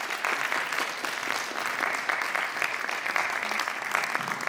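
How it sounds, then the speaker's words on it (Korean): An audience at an education policy forum claps steadily, a dense burst of applause that holds evenly without voices. "수고해주신 두 분께 다시 한번 큰 박수 부탁드립니다"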